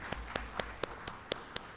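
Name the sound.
audience applause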